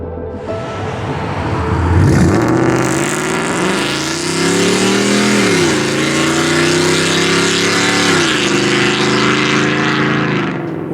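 A 2015-or-later Ford F-150 fitted with aftermarket headers and exhaust revs hard, its loud exhaust note rising and falling through several sweeping throttle blips, close and steady with no talk.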